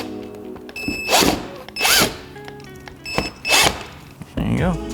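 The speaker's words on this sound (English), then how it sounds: "We're just gonna go ahead and screw on the side pieces first." A cordless power tool drives small silver bolts into the side pieces of a body kit on a Tesla Model Y, with four short close whirring bursts separated by pauses, while someone talks over them.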